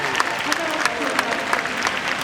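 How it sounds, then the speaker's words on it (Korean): Audience clapping at an open talk for a film at the Busan International Film Festival, a brisk, continuous patter of applause under some murmured voices. "박수 부탁드리겠습니다"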